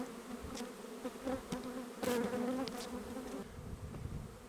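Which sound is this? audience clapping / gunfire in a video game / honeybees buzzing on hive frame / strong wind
honeybees buzzing on hive frame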